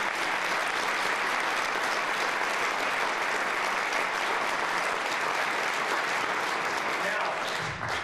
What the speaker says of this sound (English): give one more round of applause to my friend